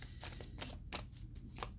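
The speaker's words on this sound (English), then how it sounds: "I thought I was going to shuffle a little more, though." Oracle cards being shuffled by hand, a quick series of soft papery riffles and slaps in an irregular rhythm, close and quiet, with no talking.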